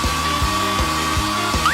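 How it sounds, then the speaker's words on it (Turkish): A cartoon hair dryer blows with a steady, loud whine and airy rush that holds throughout, broken only by a faint rhythmic thump underneath. "Saç kurutma makinesi daha iyi olur."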